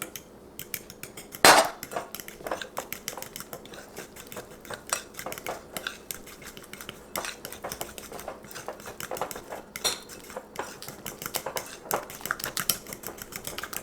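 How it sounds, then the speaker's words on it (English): Dry ingredients go into keto brownie batter in a bowl, giving light clinks and taps of a utensil against the bowl, with one sharper knock early on and scattered quiet clicks after. "I'm going to start adding in some of the dry ingredients into this."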